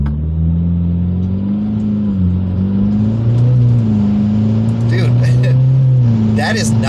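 Subaru WRX GT pulling hard in sport mode on a wet road, a steady low engine drone rising and falling through gear changes from inside the cabin, with people talking over it.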